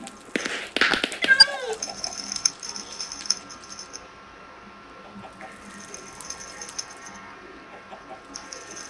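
A cartoonish cat meow sound effect in a hide-and-seek video game, a short rising-and-falling chirpy meow early on, followed by quieter game tones and clicks with a voice briefly present.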